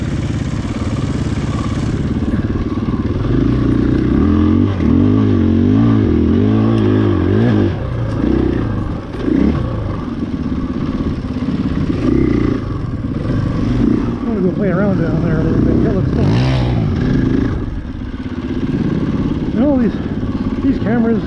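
KTM 500 EXC-F dirt bike at a sand pit, engine buzzing and revving up and down continuously close by, with a rider's voice talking over the noise.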